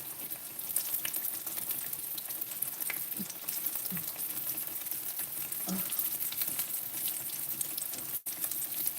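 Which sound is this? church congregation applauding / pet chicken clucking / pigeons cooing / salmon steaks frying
salmon steaks frying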